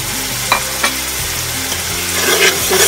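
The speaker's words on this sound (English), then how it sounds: "I'm adding the ginger and the garlic." Ginger and garlic fry in a pan for native rice. A loud, close, constant sizzle is broken by a few soft stirring scrapes.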